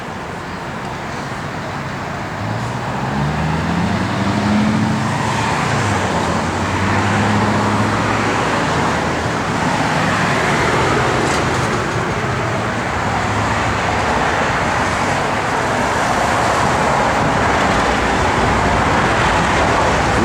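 A 1970 Chevrolet Chevelle SS with a big block engine idles and runs with a low, steady rumble, including a rising tonal swell early on, sustained and close for about twenty seconds.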